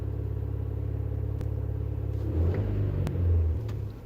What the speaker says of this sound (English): I'm gonna do just a little bit of a throttle increase here